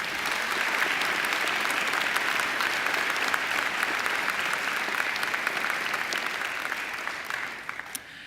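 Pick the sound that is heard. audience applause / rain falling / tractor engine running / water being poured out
audience applause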